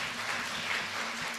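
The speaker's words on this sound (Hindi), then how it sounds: "इस्मत मिस के लिए जोरदार ताली।" An audience at a drama workshop applauds, giving a continuous even patter of many hands throughout the short stretch.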